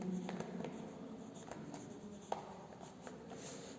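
Pen or pencil scratches out an answer in a blank space on a school worksheet, a series of light, close strokes and taps with a short sharper tick partway through.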